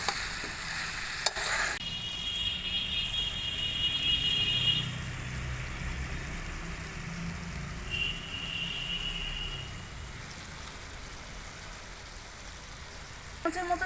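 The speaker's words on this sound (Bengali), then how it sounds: "আবার মিশিয়ে নিচ্ছি মাংসটাকে।" Mutton sizzles as it fries in a pan for Bengali mutton kosha, while a spoon scrapes and stirs through it in a steady, moderately close rhythm.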